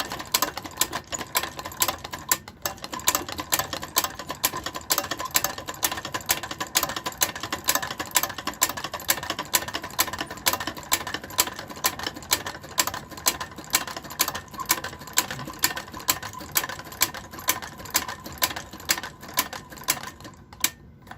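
A hand-cranked knitting machine works a red sweater, making a steady, fast rattling clatter with regular ticking carriage strokes that runs continuously for about twenty seconds, close and moderately loud, with no talking.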